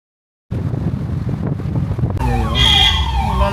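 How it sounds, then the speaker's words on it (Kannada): An ambulance siren wails loudly nearby in slow traffic on a winding ghat road, starting after a stretch of wind-buffeted engine rumble and holding a steady wavering tone. "ಇಲ್ಲೊಂದು ಆಂಬುಲೆನ್ಸ್ ನೋಡ್ಕೊಳಪ್ಪ,"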